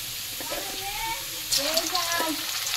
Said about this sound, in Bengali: এখন ওই পেঁয়াজটা দিয়ে দেব, ভালোভাবে ভেজে নেব